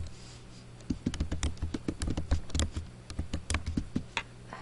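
Rapid, uneven typing on a computer keyboard, close and fairly loud, with clusters of sharp key clicks over a steady low hum and no talking.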